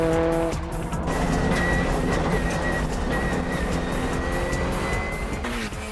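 A Subaru Impreza four-wheel-drive racing car revs hard with tire squeal and skidding on a track, its loud engine drone steady and close throughout.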